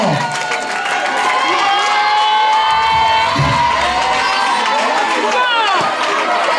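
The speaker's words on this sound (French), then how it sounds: "Applaudissez pour celles qui sont devant vous, sans jalousie, sans complexe" A school audience at an awards ceremony claps and cheers, with loud children's shouts and excited crowd noise filling the space throughout.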